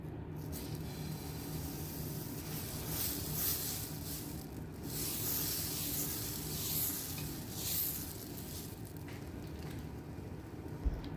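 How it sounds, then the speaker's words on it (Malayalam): Dosa batter poured onto a hot dosa pan gives a steady, fairly quiet hiss and sizzle that swells and fades gently throughout, close by with no speech. "ഇനി നമുക്കിതിലേക്ക് മാവ് ഒഴിച്ചു കൊടുക്കാം."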